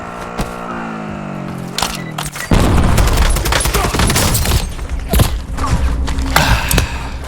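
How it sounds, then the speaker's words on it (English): Precision airstrike explosions in a video game, heavy booms and rumbling impacts erupting after a few seconds and continuing in loud, dense bursts with sharp cracks. "let me pick up Precision that airstrike again"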